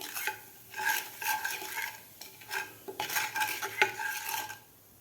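Spices, amchur powder and salt being stirred together with a spoon, clinking against a metal bowl or pan in repeated bursts, close and moderately loud, with no voices.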